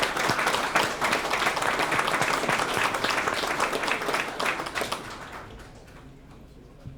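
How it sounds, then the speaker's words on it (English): Audience applause at a Memorial Day ceremony in Old Bridge, a dense wash of many hands clapping steadily for about five seconds before thinning and fading out. "So give yourselves a big round of applause"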